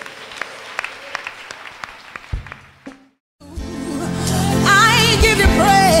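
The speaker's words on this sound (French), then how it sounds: "Give the Lord a big clap." A church congregation claps together in a sustained burst of loud, dense applause, rising and filling the space after a brief pause, with music swelling beneath during an evangelical service in Côte d'Ivoire.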